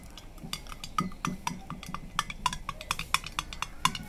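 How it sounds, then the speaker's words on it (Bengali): A spoon stirs a thickening mixture in a glass, giving faint, repeated clinks against the side at a quick, uneven rhythm. "কিছুক্ষণ সময় একটু নাড়তে হবে"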